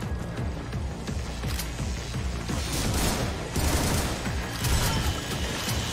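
Shotgun fire in a video game: a rapid series of loud, punchy blasts mixed with other gunfire, repeating irregularly over a dense, noisy background throughout.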